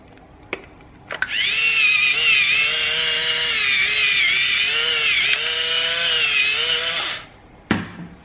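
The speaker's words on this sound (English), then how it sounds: "Salt grinders and pepper." Electric salt and pepper grinders whir steadily for about six seconds, loud and close, with a brief click before and a thump after, no talking.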